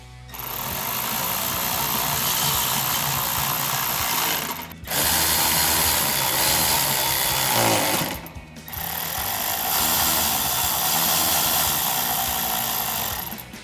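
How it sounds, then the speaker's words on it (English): A power socket tool drives belly pan screws back in under a 2005-2009 Mustang, two long loud continuous whirring bursts separated by a brief pause, close and steady. "now we'll go ahead and reinstall the screws in the bottom of the belly pan to hold that in place as well"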